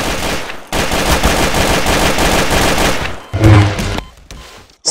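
Rapid video game gunfire, a sustained automatic burst lasting a few seconds, then a heavy thump and a few scattered shots before it cuts to near silence.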